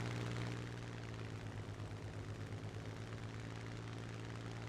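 A propeller-driven fighter's piston engine in War Thunder drones steadily and loudly throughout, with a slight pulsing in the low rumble and no voices over it.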